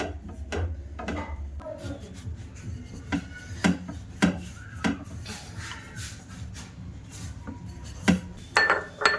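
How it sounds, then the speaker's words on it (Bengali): A rolling pin works a large, thin roti of dough on a floured surface, producing soft rubbing, scraping and light wooden knocks in an irregular rhythm, close and fairly quiet with no talk. "একটা বড় সাইজের রুটি বেলে নেব"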